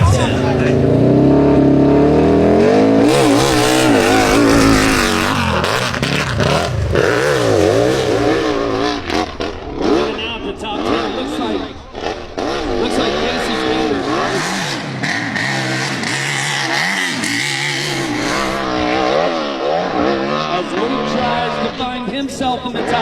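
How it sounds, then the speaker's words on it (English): A motocross motorcycle revs hard as it climbs a hill in a hill climb competition, its engine whining and rising through gear changes for the whole stretch while an announcer commentates loudly over it. "Now Henry guns it for the top."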